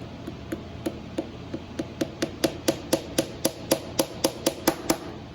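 Ukulele fret being pounded into a fretboard with a small hammer, about seventeen sharp taps in a steady rhythm that grows slightly louder, close and alone without speech.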